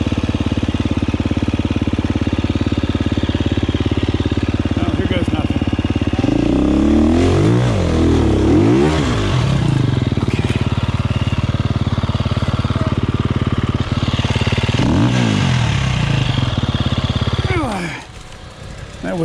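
A dirt bike engine revs up and down during off-road riding, loud and close, with several rising and falling surges over a steady drone before dropping away near the end.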